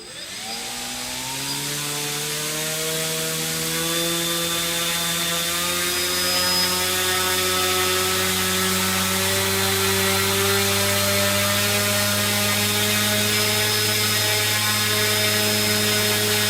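A 3DR Solo drone motor with a folding propeller spins up on a thrust test stand, ramping from silence into a loud, steady high-pitched whine that holds constant at about 450 grams of thrust.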